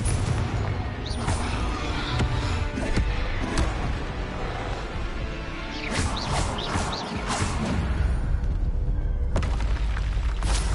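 Confringo fire spell blasts in Hogwarts Legacy, a series of loud booming, crashing explosions with whooshing bursts, repeated several times in close succession with little pause between impacts.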